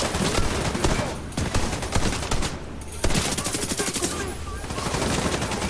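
Rapid automatic gunfire from a first-person shooter video game rattles loud and close in dense bursts, with brief pauses between volleys and a short gap near the middle.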